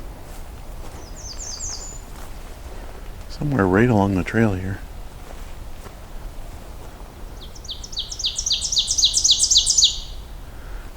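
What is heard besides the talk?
ovenbird singing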